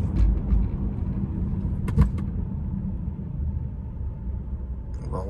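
Steady low rumble of a car cruising on the German autobahn, a continuous road and engine drone with a couple of brief clicks partway through and no speech.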